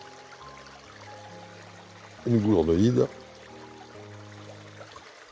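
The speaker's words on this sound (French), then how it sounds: "Un beau ruisseau" A stream in Provence trickles and flows steadily in the background, beneath a short burst of nearby speech.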